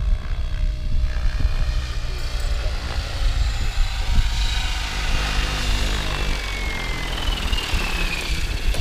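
Logo 700 RC helicopter flying smooth 3D aerobatics outdoors, its rotor and motor whine rising and falling at a moderate distance, loud and continuous.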